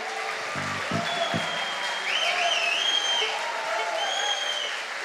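Concert audience applause at a solo concert, steady clapping filling the room with some whistled and cheering tones on top, a few low thumps early on, continuing throughout.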